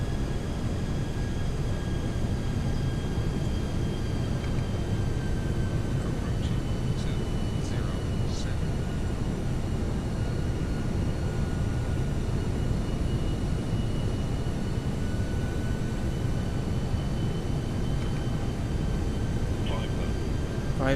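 A jet airliner on landing approach in the X-Plane 11 flight simulator gives a steady, loud engine drone with a low rumble beneath, holding constant for about twenty seconds with faint whining tones drifting above it.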